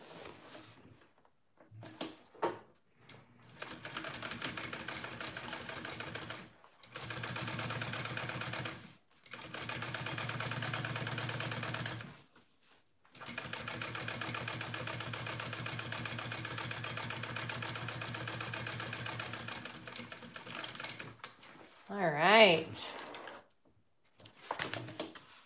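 A sewing machine top stitching a Camille bag runs in several steady bursts of a few seconds each, separated by short pauses, close and fairly quiet, with a brief clatter near the end.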